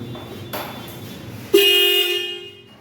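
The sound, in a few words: motorcycle dual horn honking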